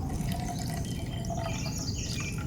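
Coffee from a Stanley all-in-one French press pours into a mug as a steady, close liquid stream with splashing and trickling that lasts throughout.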